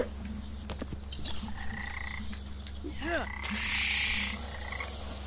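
A small frog croaks in the Lego Jurassic World video game, a few faint chirping calls rising over a steady droning game background with ambient hiss.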